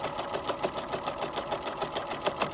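Close up, a sewing machine stitches steadily along the folded bottom of a drawstring bag, giving a continuous mechanical whir with a regular pulsing beat and no voices.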